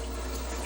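A steady, close stream of water pours into a one-cup measuring cup in a kitchen while syrup is prepared for roshgolla, a continuous full splashing fill with no pauses.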